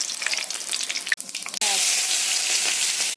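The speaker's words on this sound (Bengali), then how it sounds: "এই দেখো রূপচাঁদ মাছ উল্টিয়ে দেবো এবার।" Pomfret fish fries in a pan with a steady, loud sizzle. It pauses briefly as the fish is flipped, then returns as an even stronger continuous crackle.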